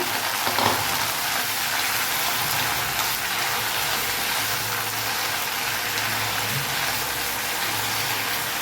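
A handful of fresh mint leaves frying in a pan for a coriander-mint chutney gives a dense, steady hiss and crackle that stays loud and even throughout, with no voices.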